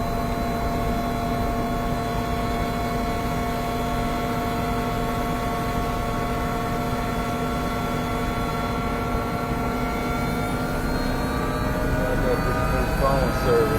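A helicopter in flight fills the cabin with a steady, loud rotor and turbine drone, constant throughout with a faint rising whine near the end, and a voice speaks over it.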